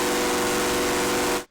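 Synthesized TR-606-style hi-hat built in Phase Plant, run through a saturate-mode distortion at about 7 dB drive: a loud, dense burst of bright noise sustained for over a second, then cut off sharply into near silence.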